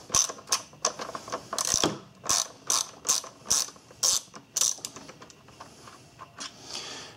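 Ratchet wrench working a stubborn bolt on a Volkswagen Jetta GLX intake manifold, a series of close, crisp clicking bursts in an uneven back-and-forth rhythm, loud against a quiet background.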